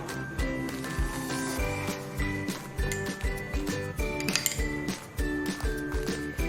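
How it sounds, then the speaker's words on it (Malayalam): A spoon stirs salt into paruthipaal, a cottonseed milk, in a pot, giving rapid, steady metallic clinks and scrapes against the pot's sides, close and continuous with no talking. "ഉപ്പിട്ടിട്ട് അങ്ങനെ ഇളക്കാം"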